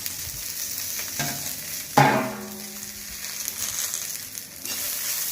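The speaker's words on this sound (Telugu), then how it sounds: "ఇలా కరివేపాకు బాగా వేయించుకోవాలండి" Curry leaves frying in a pan for karampodi, a soft crackling sizzle with stirring scrapes and one sharp clatter midway, close and without speech.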